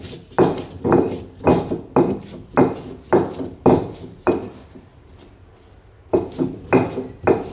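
A spatula strikes a pan in a steady rhythm of scraping, clacking thuds while finely mashing egg bhurji. About ten evenly spaced hits sound close and clear, with a brief pause before the strokes resume.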